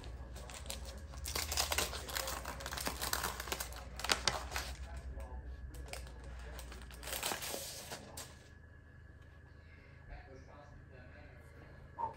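Paper crinkling and tearing as a letter envelope is opened, a close rustle of crumpling and ripping for several seconds, then quieter handling; a voice talks in the background.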